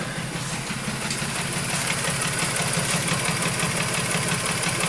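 A VW Polo 1.2 petrol engine idles steadily nearby after a new ignition coil, a continuous rumbling chug with a slightly uneven beat, burnt-through exhaust, and no voices.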